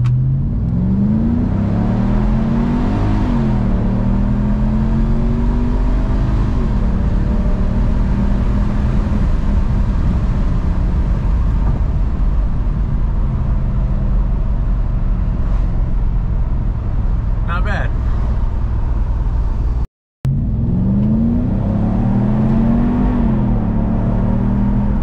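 A Mercedes W202 C43 AMG with a V8 launches hard, its engine climbing through rising revs with loud, close exhaust and drivetrain rumble, then shifting and pulling again after a brief cut.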